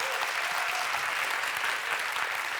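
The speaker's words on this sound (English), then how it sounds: "for those of you that think gender parity is a force for good, please clap now" A debate audience claps steadily for a few seconds, forming a dense, even wash of applause from a crowd.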